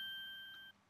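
Phone ringing in the video game Phoenix Wright: Ace Attorney, a thin steady electronic tone held for most of a second, then cutting off and chirping briefly, faint and alone.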